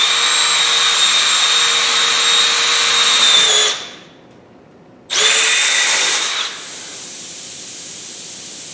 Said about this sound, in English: we are going to carefully place that in that circle and drill the hole